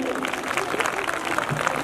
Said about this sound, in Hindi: एक बार फिर से जोरदार तालियां हो जाए सभी के लिए